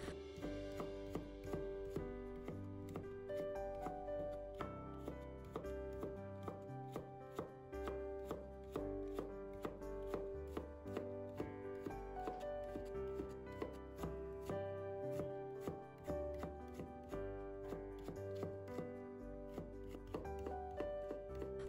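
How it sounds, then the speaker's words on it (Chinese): Knife chopping radish into fine thin shreds on a cutting board for a Chinese radish and egg soup, a steady rapid run of close, crisp cuts continuing throughout with no talking. "接下来我们改刀把它切成萝卜丝，萝卜的丝我们尽量切细的"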